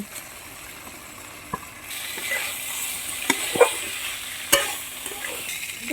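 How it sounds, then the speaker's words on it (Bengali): Cauliflower florets tipped into a hot spiced pan crackle into a steady sizzle, with a few sharp clacks and stirring scrapes close by, the frying growing louder midway and holding to the end. "এইবার আমি কপিগুলো দিয়ে দিচ্ছি"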